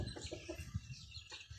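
Bantam chickens cluck softly in short, uneven bursts, fairly near, with quiet background noise and no talking.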